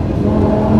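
A 2016 Lamborghini Huracan LP 610-4 drives through a tunnel, its engine a loud, continuous low roar reverberating for under a second.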